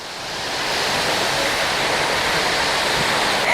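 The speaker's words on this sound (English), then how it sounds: "We're going behind the waterfall." A loud, steady roar of a waterfall on Iceland's south coast fills the clip, a dense rushing wash of water close by, heard from behind the falls, with no other sounds.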